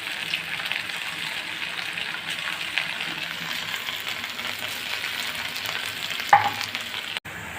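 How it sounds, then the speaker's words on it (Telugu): Chicken sizzles steadily in a pan for noodles while a utensil scrapes and stirs through it, a constant crackling fry with occasional clinks and a sharper knock near the end. "చికెన్ అంతా అలా వేపుకుని తీసుకుంటాను నేను."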